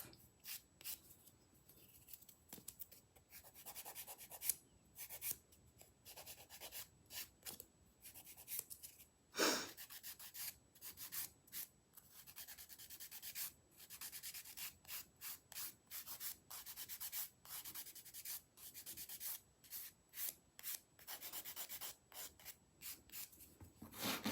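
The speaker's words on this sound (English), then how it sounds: "make sure that you don't file too much either, because then you're just kind of filing the dip right off" Nail file rubbing across dip powder nails in quick, faint, rhythmic strokes, a dry scratchy rasp repeated steadily with short pauses and no talk.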